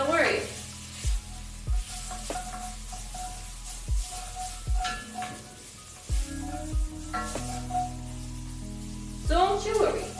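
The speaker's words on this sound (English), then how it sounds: "Saute the paste. Yeah, we're sauteing it." A spice paste sautés in a pan with a steady close sizzle, broken by regular thumps and scrapes of stirring, and a voice is heard now and then.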